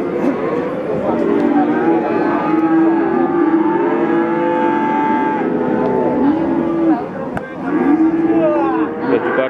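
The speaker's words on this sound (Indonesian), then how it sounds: "Dan juga ada deretan sapi-sapi pekon." Cattle at an outdoor livestock market in Pati, Java, moo repeatedly in long drawn-out calls that overlap one another, loud and close, with market chatter underneath.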